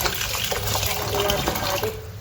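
Rice being washed by hand in water in a home kitchen for a Mangalorean-style breakfast, a steady close swishing and running-water wash with small sloshes throughout.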